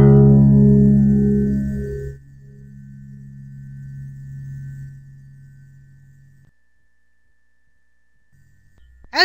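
Low string of a six-string guitar plucked, a deep note that rings strongly then continues as a softer hum and dies away into near silence, no talking.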